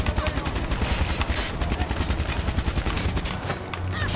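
Rapid, dense automatic gunfire from the Call of Duty Black Ops 3 campaign rattles continuously for several seconds, loud and close, with no speech over it.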